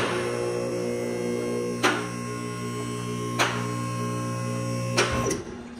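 Air conditioning unit running in a garage during work on a Crown Vic F100 body swap, a steady humming drone with a constant tone, broken by a few faint clanks.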